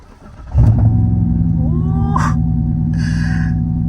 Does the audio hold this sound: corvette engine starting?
yes